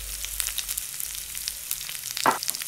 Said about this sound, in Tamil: ஃப்ரை பேனில் எண்ணெய் சூடானதும் பொடிசா வெட்டின வெங்காயத்தை போடுங்க.